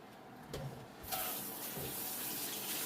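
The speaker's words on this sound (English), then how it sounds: "I add water to my bowl because you know I got to clean as I go here." A kitchen tap runs water into a mixing bowl, beginning with a brief spurt and then settling into a steady, fairly quiet hissing stream.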